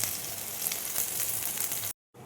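Soya chunks frying in hot oil, a close, even crackling sizzle that runs steadily, then cuts off abruptly into a brief silence before resuming.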